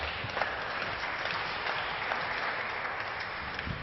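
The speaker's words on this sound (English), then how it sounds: "Fahey applauds that shot of Steve's" A real tennis player claps during a world championship match, a steady wash of clapping sustained throughout, with scattered sharper claps standing out in the spacious court.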